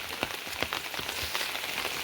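Morning monsoon rain falls steadily in Dhaulavalli, Rajapur, in Konkan, a dense close hiss with individual drops striking a surface throughout.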